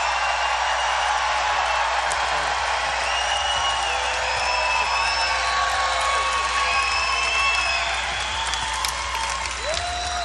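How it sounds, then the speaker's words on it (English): A big rally crowd in Melbourne, Florida, in Brevard County, applauds and cheers for the county sheriff, sustained dense clapping with whoops and shouts throughout, loud and enveloping. "Everybody, a big round of applause to the great sheriff of Brevard County"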